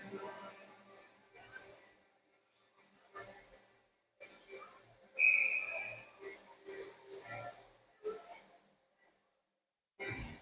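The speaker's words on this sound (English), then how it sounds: "ref's whistle blows, and we got a stoppage" A referee's whistle gives one steady, moderately loud blast during a college ice hockey game between Eastern Michigan and Aquinas College. Arena commentary runs around it.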